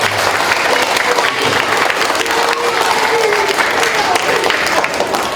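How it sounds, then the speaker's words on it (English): A school assembly of students gives themselves a loud, sustained round of applause, a thick wash of clapping from a large crowd filling the whole stretch, with voices mixed underneath. "Please give yourselves a nice round of applause."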